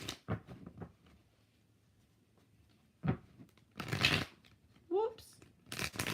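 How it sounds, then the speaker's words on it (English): Tarot cards are shuffled by hand in several short, crisp bursts of riffling between stretches of quiet, with a voice speaking briefly in between. "3 shuffles."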